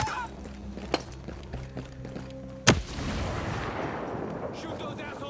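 Gunfire in the video game Ghost Recon Breakpoint: one sharp, loud shot stands out against a steady rumble of battle noise, with a fainter report earlier and a wash of game ambience around them.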